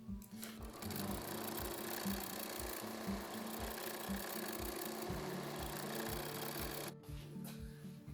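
A sewing machine runs steadily, stitching a decorative seam across the mouth of a denim bag pocket, with a fast rhythmic mechanical chatter that holds close and continuous before a brief stop near the end.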